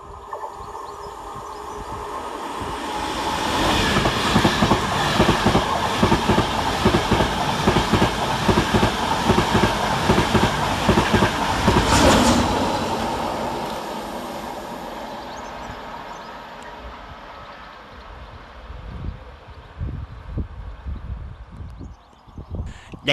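LNER train 91109 on a Leeds to London King's Cross service passing through Sandal and Agbrigg station, building to a loud rumble with rhythmic wheel clatter, then fading as it pulls away.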